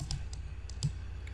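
A computer mouse clicks while shapes are formatted in PowerPoint: about five light, sharp clicks come at irregular intervals, faint and close, over a low steady hum with no talking.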